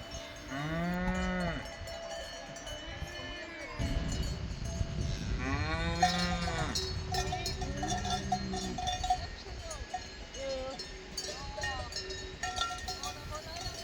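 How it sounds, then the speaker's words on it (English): Cattle in an alpine meadow near Obergailersee in the Austrian Alps moo loudly and repeatedly as they draw close, with cowbells clanking and jingling steadily underneath. "The cows are coming closer all the time and soon we are pretty much surrounded by them."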